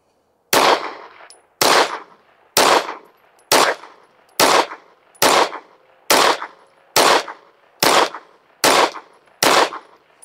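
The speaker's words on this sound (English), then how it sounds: "Let's shoot a group at that bottom left." A TAC Ultra double stack 1911 pistol fires eleven loud, evenly spaced shots at the range, each a sharp crack with a short decaying tail, with no talk in between.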